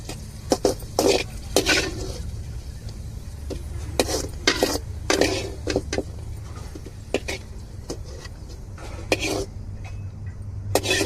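Metal spoon scraping and knocking against a pan while semolina roasts in ghee for kesari, irregular clinks and scrapes over a low background hum.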